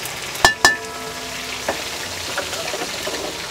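Cumin seeds, curry leaves and green chilies dropped into hot oil for Kolhapuri sabudana khichdi, with two sharp splattering bursts followed by a softer, fading sizzle.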